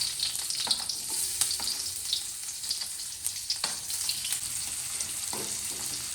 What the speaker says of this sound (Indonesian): Kita goreng bawangnya seperti biasa sampai sedikit mencoklat dan harumnya keluar.